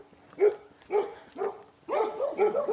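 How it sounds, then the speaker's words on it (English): A dog barks outdoors in a rural village street, several separate woofs followed by a quicker run of barks, moderately close and with no talking. "and dog is barking"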